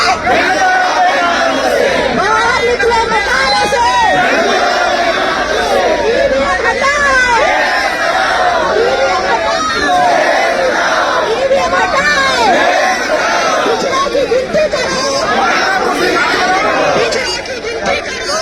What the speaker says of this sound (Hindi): इतनी बड़ी संख्या में भीड़ और वो गूंजते नारे